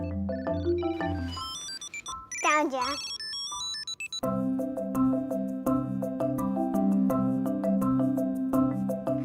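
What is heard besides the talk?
Tile tracker ringing after pressing button in phone app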